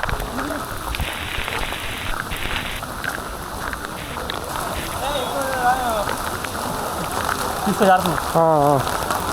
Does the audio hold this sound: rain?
yes